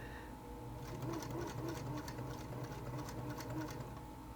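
A sewing machine runs steadily, stitching a seam through stretchy yoga pants fabric with a continuous close whir and rapid needle rhythm throughout, with no one talking.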